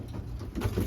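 Low, throaty cooing of racing pigeons, close by and brief, over a dull background hum.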